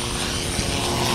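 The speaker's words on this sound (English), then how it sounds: "That's the skydive plane." A small skydive plane drones overhead with a steady, broadband engine hum, moderately loud and unbroken for the short moment, heard from the ground with no talking.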